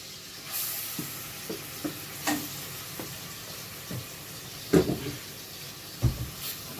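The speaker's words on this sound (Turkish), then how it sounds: "güzelce kavuracağım bunu. İyice ne kavrulsun." Chicken with chickpeas and vegetables being sautéed in a pan, a steady soft sizzle broken by scattered spoon scrapes and stirring clatters, a sharper clink near the end, no voices.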